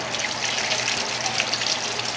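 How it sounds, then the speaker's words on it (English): Tap water running steadily over a whole raw chicken being rinsed in a kitchen sink, a continuous close splashing hiss with no pauses. "I'm just going to rinse it off."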